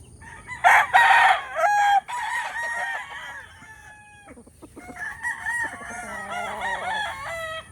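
Blue face hatch gamefowl roosters crowing at a gamefowl farm, several loud drawn-out crows overlapping and following one another, with a few clucks between them.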